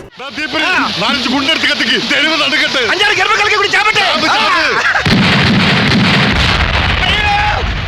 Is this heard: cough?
no